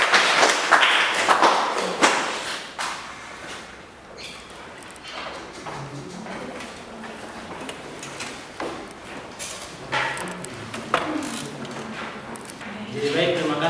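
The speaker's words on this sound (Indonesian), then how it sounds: "Tepuk tangan." Classmates applaud after a group presentation in a classroom: a short burst of scattered clapping at the start, then people talking over light taps and thumps.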